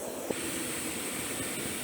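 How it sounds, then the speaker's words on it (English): On a miniature steam locomotive running uphill, the injector steam valve opens to feed water into the boiler, giving a steady, close hiss of rushing steam. "I'm going to open the water valve and open the injector steam valve. And we're going to put water in the boiler while we're running."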